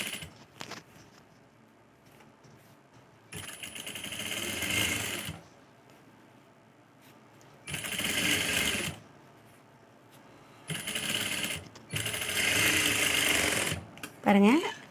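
A sewing machine stitches a puff sleeve in three or four loud bursts of steady whirring, separated by quieter pauses with faint handling noise.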